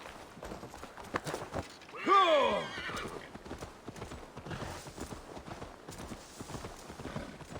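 A horse gallops in the video game Assassin's Creed Valhalla, rapid rhythmic hoofbeats running throughout with a sharp whinny near the start, while someone talks over the action.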